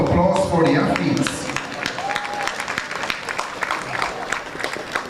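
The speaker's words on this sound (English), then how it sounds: "you can give a louder round of applause for the athletes." A crowd at an athletics meet applauds the athletes with sustained clapping and cheering, loud at first then settling into steady claps, while a voice talks over it.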